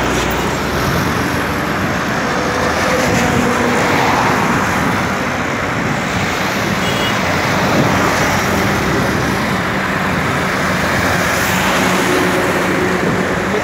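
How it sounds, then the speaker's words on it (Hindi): Continuous road traffic roar on a foggy morning highway heading toward Mumbai, with a steady wash of cars, buses and trucks passing at moderate distance and no pauses in the noise. "ये सब गाड़ी मुंबई तरफ जा रहा है।"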